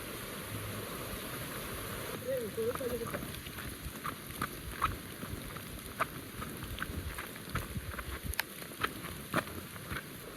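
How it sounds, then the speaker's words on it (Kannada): Constant rushing water of a flowing stream at Barki Falls, broad and steady, with scattered small splashes and clicks and a brief voice in the background. "ನೋಡ್ರಿ ನೀರು ಹರಾಕತ್ತಾವ"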